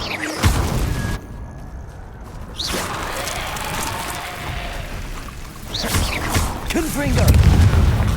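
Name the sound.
Bombarda blasting spell explosion from video game Hogwarts Legacy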